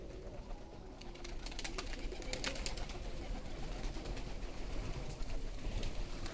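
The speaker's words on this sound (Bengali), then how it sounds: "দেখেন, কবুতরটা খুব সুন্দর ডাকতেছে।" Pigeons at a pigeon farm coo in soft repeated calls over a constant rushing background hiss, fairly faint and unhurried, with no one speaking.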